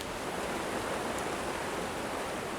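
A waterfall on Ilhabela sends up a steady, broad rushing roar, even and continuous with no speech over it.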